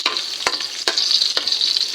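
Garlic fries loudly in rendered pork fat, a dense close-up sizzle broken by three sharp spatula knocks against the pan.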